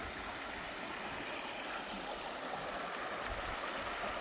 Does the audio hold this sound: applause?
no